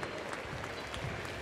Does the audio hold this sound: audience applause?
yes